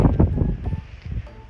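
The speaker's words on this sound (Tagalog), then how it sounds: "At ang lakas ng hangin" Strong wind buffets the microphone in low rumbling gusts, loud and close, with rustling swells throughout.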